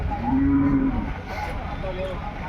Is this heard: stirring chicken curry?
no